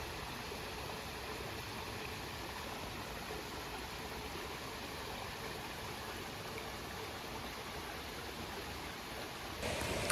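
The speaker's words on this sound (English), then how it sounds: "I sat down next to the water" A woodland stream flowing steadily, a continuous broadband rushing and babbling that stays even and moderately quiet for the whole stretch, heard alone without voices.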